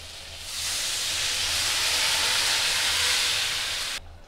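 Water poured into a hot pan of vegetables sets off a loud, steady hissing sizzle that swells quickly, holds for several seconds, then cuts off abruptly.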